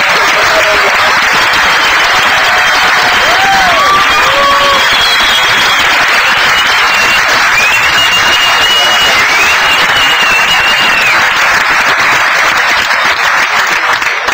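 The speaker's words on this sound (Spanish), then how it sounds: "yo quiero pedirles para ellos un aplauso de reconocimiento" Loud, sustained applause from a large Spanish-speaking audience, dense continuous clapping with some cheering and whistles rising over the crowd, close and filling the whole stretch.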